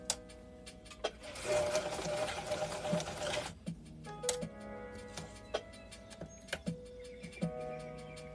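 Sewing machine stitching around a pocket, short runs of rapid stitches broken by pauses, ticks and clicks of handling, with one louder, denser burst of sewing early on; no talking.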